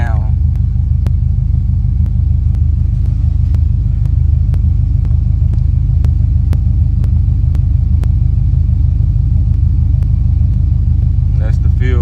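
A Buick Regal with Holley EFI idles after a cold start, a loud, steady low rumble with an even tick-like pulse running unbroken throughout.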